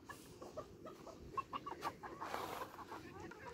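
Pekin bantam chickens, a rooster with blue and black hens, cluck in short soft bursts nearby at a new pallet-built coop in a village, fairly faint.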